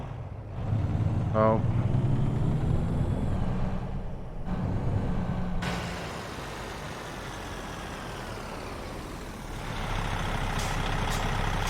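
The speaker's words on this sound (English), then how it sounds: "just to show you, I can reverse a truck" A big rig backing up in American Truck Simulator: steady diesel rumble, a quick run of reversing beeps early on and a hiss like an air brake, with a brief spoken exclamation.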